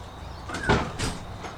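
A house door opens or closes in a few soft bumps and slides over about a second, moderately loud against a quiet background.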